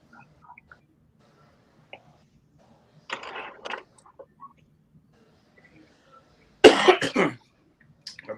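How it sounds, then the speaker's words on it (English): A man with bronchitis coughs in two bursts, a shorter one and then a louder, harsher one near the end, close to the mic in an otherwise quiet room with faint background clicks. "I'll be glad once I can get rid of this cough."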